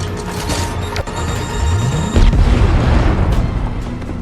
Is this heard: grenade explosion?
yes